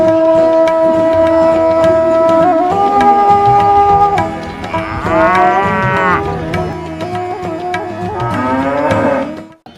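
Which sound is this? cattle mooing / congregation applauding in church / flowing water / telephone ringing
cattle mooing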